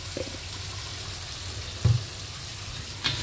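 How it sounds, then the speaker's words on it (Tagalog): Ten prawns sautéed in garlic sizzle steadily in a frying pan, a continuous hiss with a couple of brief utensil clatters. "kaya ginisa ko na lang sa bawang ang 10 pirasong prawn"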